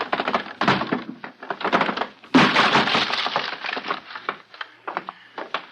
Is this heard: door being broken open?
yes